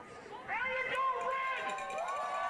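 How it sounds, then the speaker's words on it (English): Crowd of fans cheering and yelling at a youth sports game as players go to shake hands with officials, a loud sustained wash of voices rising and falling at mid distance. "And the fans cheering"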